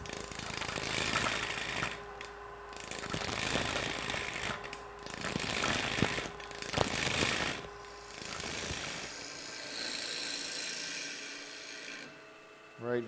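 A gouge makes small push cuts on wood spinning on a lathe, giving a close, steady scraping rasp in several bursts with brief pauses, faint at times.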